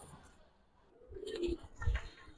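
Giribaz pigeons at a seller's coop coo in low bursts against quiet background rustle, the calls swelling toward the end.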